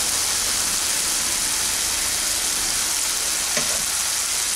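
Chicken and pointed gourd frying in a pan after soy sauce and tomato sauce go in, a dense, loud, unbroken hissing sizzle with one faint knock near the end, close and without voices.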